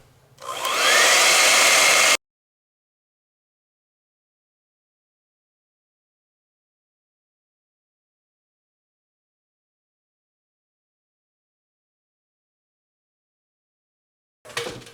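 Hair dryer blowing on an acrylic still-life painting, a loud steady whoosh for about two seconds that cuts off abruptly, followed by long silence and a brief return of the blast at the very end.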